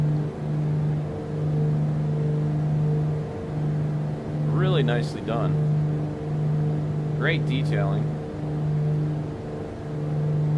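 Steady drone of the BlackSquare Duke twin piston aircraft engines in Microsoft Flight Simulator, a constant hum with a strong low tone throughout while someone talks over it.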